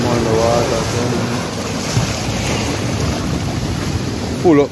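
Sea waves wash steadily against the east coast of Jamaica, a broad continuous surf roar with wind buffeting the microphone and a brief louder splash near the end; a voice talks faintly over it.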